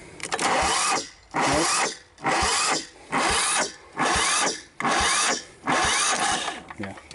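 A Lombardini diesel engine with a faulty compression release cranks over repeatedly without catching, in about six loud, regular bursts separated by brief pauses, with one short spoken word among them.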